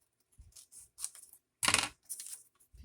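Scissors cut through book page paper in a series of short, crisp snips and rustles, close and quiet, with one louder longer cut near the middle and no talking.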